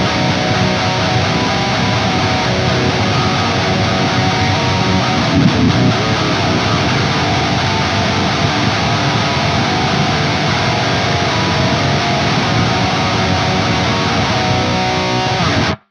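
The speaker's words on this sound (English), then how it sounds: "So the riff sounds like this." A heavy, distorted riff on an 8-string electric guitar plays as a dense, loud, continuous wall of chugging tone for about sixteen seconds, with no voice over it.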